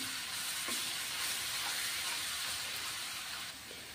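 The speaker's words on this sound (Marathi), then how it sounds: "आता फोडणीमध्ये इथं आपण टाकून घेणार आहोत अद्रक लसण आणि कोथिंबीरीची पेस्ट." Ginger, garlic and coriander paste fries in hot butter for a pav bhaji tempering, a steady, soft sizzle and hiss running evenly throughout with a slight drop at the end.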